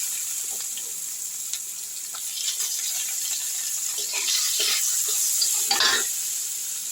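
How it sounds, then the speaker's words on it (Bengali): Chopped onion tipped into hot oil already tempered with bay leaf and whole cumin for a poppy-seed, cashew and pointed gourd masala, giving a steady close sizzle with soft stirring scrapes and no voices. "এই তেলের মধ্যে আমি দিয়ে দিচ্ছি একটু কুচনো পেঁয়াজ"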